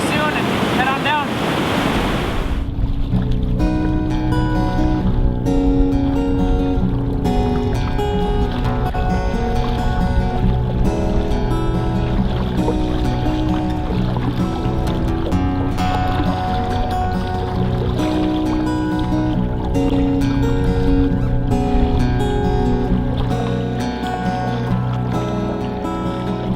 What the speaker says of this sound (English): Pretty good headwind when we come around this point.